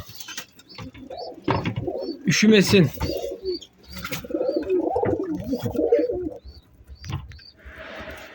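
Pigeons and pigeon chicks coo in low, throaty bursts close by, with soft chirps and rustling, while a person speaks briefly in Turkish in between.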